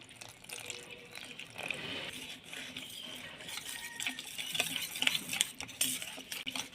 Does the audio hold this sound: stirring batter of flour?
yes